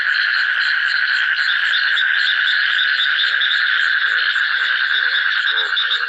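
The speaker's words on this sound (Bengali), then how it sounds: "বৃষ্টি হওয়ার কারণে কিন্তু ব্যাঙ ডাকে।" A loud, dense chorus of frogs croaks continuously close by after heavy rain, the calls overlapping in a steady rhythmic pulsing with no voices.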